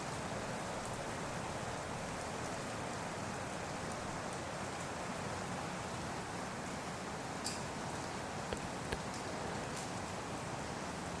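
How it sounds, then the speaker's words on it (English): Steady rain patters in a soft, continuous hiss, with a few faint drips and taps standing out now and then. "The sound of rain"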